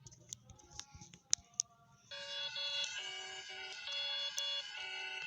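An emergency alert system alarm blares a steady, multi-tone electronic drone after a few sharp clicks, continuous and fairly loud.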